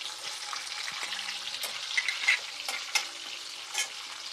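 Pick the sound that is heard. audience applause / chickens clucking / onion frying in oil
onion frying in oil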